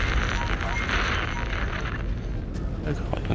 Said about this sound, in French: c'est une explosion nucléaire, les gars!